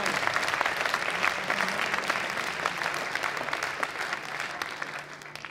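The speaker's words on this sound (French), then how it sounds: "je voudrais qu'on s'applaudisse déjà" Audience at a hackathon finale breaks into sustained applause, a dense steady wash of many hands clapping for several seconds, fairly close and even in level.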